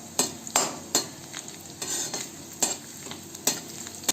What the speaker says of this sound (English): These are fresh ginger and garlic. Instead of this, you can also use ginger garlic paste if you have. Let it saute for a while.